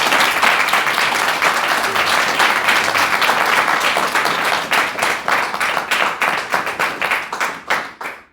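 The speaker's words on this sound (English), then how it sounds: "massive round of applause" Audience applause for a speaker at a talk in Crawley, UK: a dense, sustained wash of many hands clapping that thins into fewer, slower individual claps before fading out.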